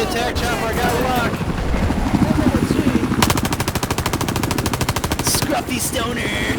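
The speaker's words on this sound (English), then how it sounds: "Enemy attack chopper." Attack helicopter in a combat video game, a steady rapid rotor chop that fills the second half, mixed with loud machine-gun bursts and gunfire throughout, with players talking over it.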